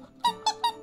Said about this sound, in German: Quietschesonne.